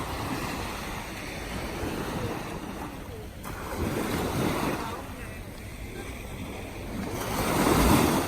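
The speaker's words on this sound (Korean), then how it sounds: "다들 들어보실까요? 바닷소리." Ocean waves washing onto a Busan beach at night, a soft rushing surge that rises and falls in slow swells, with wind rumble on the microphone and no talking.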